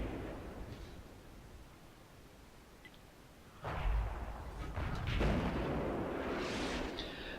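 Low-tier British artillery fires in the World of Tanks game: rumbling battle noise, then two heavy booming shots in the second half, fairly loud and continuous.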